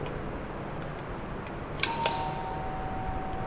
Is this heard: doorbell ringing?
yes